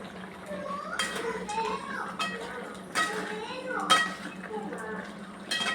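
A spoon clinks and scrapes around a pan of ivy gourd gravy as it is stirred, with light metallic knocks at intervals and faint background voices in a home kitchen.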